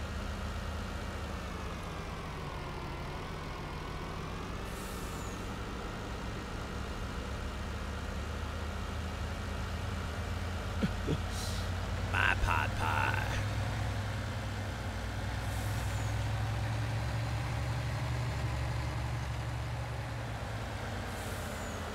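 Modular truck engine idling in the Farming Simulator 19 video game, a steady low droning rumble that runs throughout, with a few faint short clicks and hisses partway through and no talk.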